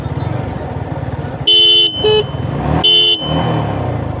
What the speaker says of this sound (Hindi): 3 हॉर्न मार के उसके बाद निकलना है।